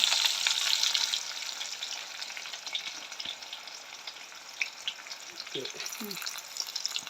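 Onions sautéing in a pan for a dried fish curry, a near, steady frying crackle with stirring scrapes, a faint voice murmuring briefly near the end.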